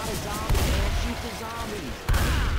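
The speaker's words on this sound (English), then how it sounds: "Why are you shooting me?" Gunfire in Left 4 Dead 2 amid a zombie fight, a dense wash of noise with two heavy booming shots spaced about a second and a half apart and lighter scattered fire between, with voices underneath.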